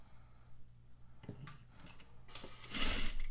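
A sewing machine stitches through box pleats in short close bursts, quiet at first and building to a louder, rapid run of stitching at the end, with no talking.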